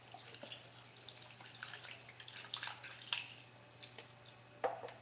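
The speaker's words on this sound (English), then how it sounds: "I'm going to pour the rest of the chicken broth in there and then some water" Chicken broth and then water pouring into a cooking pot, heard as faint, uneven splashes and trickling drips over a steady low electrical hum.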